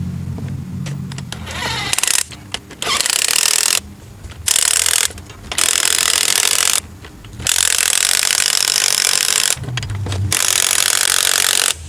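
A spring compressor being ratcheted on a Volvo front strut spring (850, S70, V70), loud close clicking ratchet strokes in several bursts, broken by short pauses.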